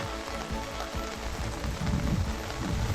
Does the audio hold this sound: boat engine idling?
no